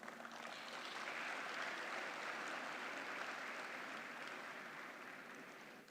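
An audience at a university gathering applauds in a dense, sustained wave of clapping that swells and then slowly tapers off, filling the room with no voices on top.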